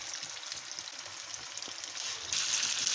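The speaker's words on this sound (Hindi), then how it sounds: "फिर इसमें हम कबाब को शैलो फ्राई करते हैं" Handi kebabs shallow frying in hot oil give off a steady, close sizzle with faint crackles, growing louder and more hissing toward the end.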